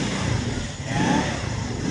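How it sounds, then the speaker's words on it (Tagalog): A 200cc farm 4x2 UTV engine catches and runs at a moderate level, its rough mid-pitched drone wavering as it settles. "i-start po natin siya. Maririnig nyo yung starting."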